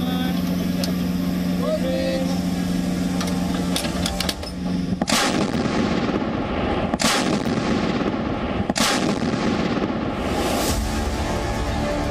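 Three heavy booms from an Indian-made DRDO cannon firing an Independence Day gun salute at the Red Fort, spaced a couple of seconds apart, each with a long rumbling tail, over a steady background drone and voices.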